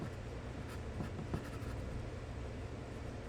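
A pencil sketches on paper in short, faint scratching strokes, soft and close, with a few quick taps between them.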